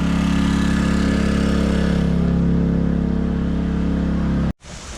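A small portable generator powering boat sanding drones loudly and steadily with a constant hum, then cuts off abruptly near the end, leaving a brief quieter noise.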